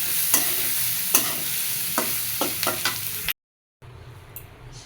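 Sliced potatoes and onions sizzling in a pan of oil as a spatula scrapes and stirs them in repeated strokes, then a brief cut to silence before quieter frying resumes.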